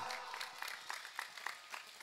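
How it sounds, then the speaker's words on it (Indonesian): An audience at a religious gathering at an Islamic boarding school claps in a short, quiet burst of scattered handclaps that sound distant and faint. "Tepuk tangan yang keras dan meriah."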